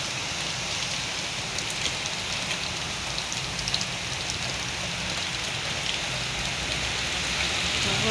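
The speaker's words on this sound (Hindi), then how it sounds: "बहुत तेज बारिश है, बहुत ज़्यादा तेज बारिश।" Very heavy rain hammers down in a dense, unbroken hiss that stays even and steady throughout, with no voices over it.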